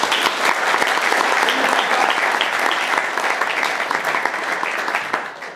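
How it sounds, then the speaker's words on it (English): Audience at a magic show at The Magic Circle in London applauds steadily for several seconds, a dense, loud wash of clapping that tapers off at the end. "Give him a round of applause."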